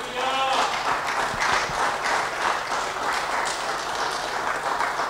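A church congregation applauds loudly and continuously, a dense wash of many hands clapping together at steady strength, with voices mixed into the clapping.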